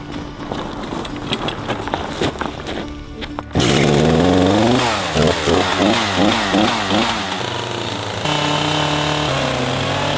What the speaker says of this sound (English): I'm gonna just take a chainsaw and cut out a little piece here, cut out a little piece there